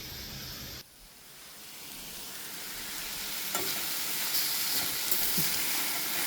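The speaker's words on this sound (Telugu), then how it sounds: "పోపులో వేసి క్యారెట్ వేసేసుకోవడమే" Carrot pieces hit hot tempering oil in a pan and sizzle, the frying hiss building steadily louder, with faint stirring clicks and no talking.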